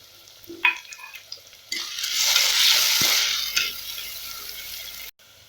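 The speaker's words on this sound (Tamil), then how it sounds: "நல்லா வதங்குற வரைக்கும் கிளறி விட்டுக்கலாம். பூண்டு சேர்த்துக்கலாம்." Onions and garlic sautéed in a clay pot for fish curry, a few scattered clinks and scrapes, then a loud hissing sizzle that swells for a few seconds and fades before a sudden cutoff, with no voices.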